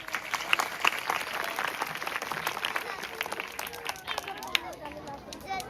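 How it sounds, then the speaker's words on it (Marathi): Schoolchildren clapping for Birsa Munda at a school gathering, a dense, steady patter of many small hands with some murmuring voices mixed in, sustained at moderate distance. "बिरसा मुंडा यांच्यासाठी आपण टाळ्या वाजवूयात"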